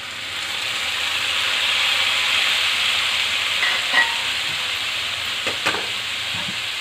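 Tomatoes sizzling in oil in a pan on a medium flame for a bitter gourd (kakarakaya) curry, a steady broad frying hiss with a few soft stirring clinks near the end and no talk.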